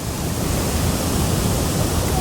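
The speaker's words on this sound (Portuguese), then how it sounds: "Vira uma cachoeira de um lado." Waterfall at Nova Lacerda, Mato Grosso, Brazil, pouring as a steady, loud, broadband roar of rushing water that fills the whole clip without a break.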